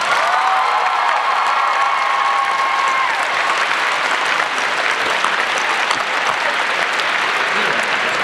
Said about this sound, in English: Let's give all these students one more round of applause.